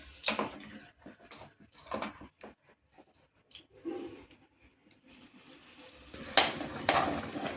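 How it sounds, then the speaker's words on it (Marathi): Spice masala with asafoetida roasts in oil for mas vadi bhaji, stirred with intermittent scraping and soft sizzles before a louder burst of frying at the end. "आपण हा तयार करून घेतलेला मसाला आता तेल सुटेपर्यंत चांगला भाजून घ्यायचा"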